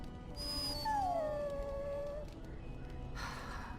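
A dog in the fantasy role-playing game Dragon Age: Origins gives one long, descending whine that trails off, with no talking over it.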